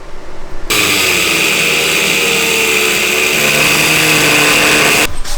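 A tack weld goes down on metal motor mounts, a loud, steady crackling buzz that starts abruptly, holds for about four seconds and cuts off sharply, heard close with no talk.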